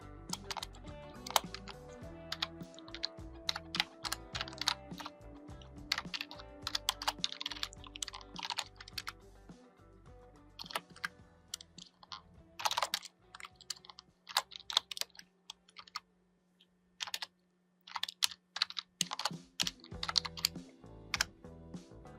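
Program code being typed on a computer keyboard, close and clear bursts of rapid key clicks separated by short pauses, with a faint steady hum underneath and no talking.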